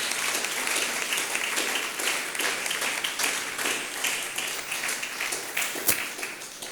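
A church congregation applauding during a French-language worship service, a sustained crowd of hands clapping steadily at moderate distance with a few louder claps near the end.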